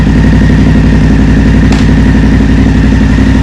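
A BMW F750GS motorcycle engine idles steadily up close, a loud, even mechanical rumble with a faint clatter and one brief sharp tick midway, no voices.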